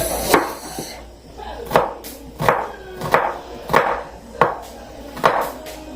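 An onion being chopped on a board, seven sharp knife strikes at a slow, even rhythm, close and distinct, with quiet gaps between cuts.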